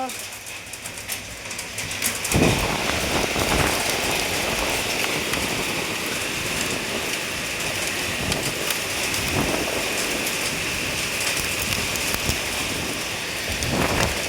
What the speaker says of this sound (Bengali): দেখো বন্ধুরা কত বৃষ্টি।